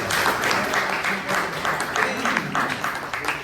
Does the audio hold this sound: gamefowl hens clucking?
no